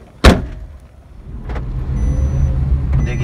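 A Maruti WagonR CNG top-model car pulls away, a sharp door thud near the start and another soft knock later, then a steady low engine and road rumble builds as it gets moving.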